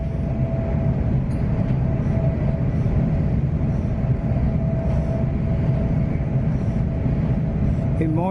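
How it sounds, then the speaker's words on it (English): Heard from inside a moving passenger train, a steady low rumble and rattle with rhythmic clacks and sways runs continuously, close and fairly loud. "This train sure is rocking and rolling."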